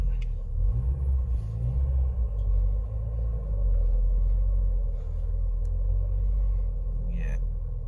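A classic Mini convertible being brought back on the road idles with a steady low engine rumble while the gearbox is shifted into reverse, with a noisy release bearing; voices talk faintly nearby.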